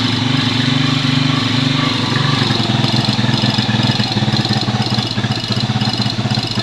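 An engine idles loudly and steadily at close range, giving a continuous rumbling drone with a fast regular pulse that holds for several seconds.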